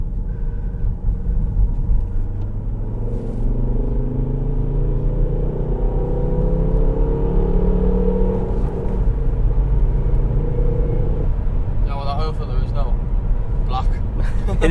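Volvo V50 D5 diesel estate on a short test drive, a steady low rumbling engine and road drone heard from inside the cabin, continuous and moderately loud, with a voice speaking briefly.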